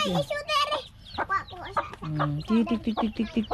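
Chickens cluck in short bursts nearby, with a voice and other chatter mixed in among the birds.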